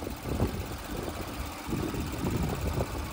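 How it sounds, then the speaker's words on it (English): A 2019 Porsche Cayenne S engine idles steadily up close, a smooth low rumble that holds even for a few seconds with no talking over it. "Idle's really smooth, runs and drives awesome."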